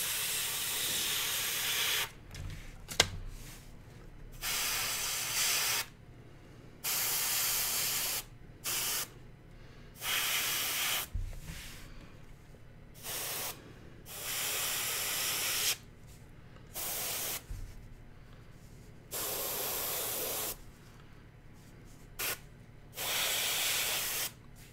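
Repeated bursts of an aerosol or airbrush spray coating a large miniature dragon figure, about eight separate hissing blasts of a few seconds each with quiet gaps between, close and steady, with no talking.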